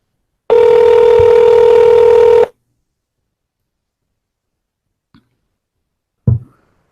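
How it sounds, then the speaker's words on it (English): A telephone rings once in a long steady tone as a call is placed, followed by silence and a couple of faint clicks. "Let us call her again."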